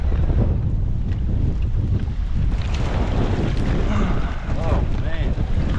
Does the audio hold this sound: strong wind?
yes